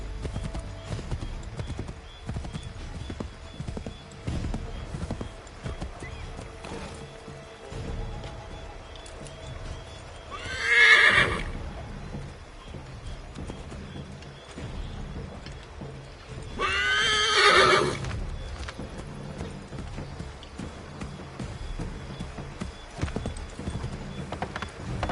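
In the video game Assassin's Creed 3 Remastered, a horse gallops with a steady clip-clop of hooves throughout. It neighs loudly twice, around the middle and again later, with occasional faint voices underneath.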